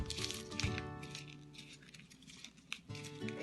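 Paper is crumpled up by hand during a children's craft activity, a close series of crinkling, rustling crackles in irregular bursts.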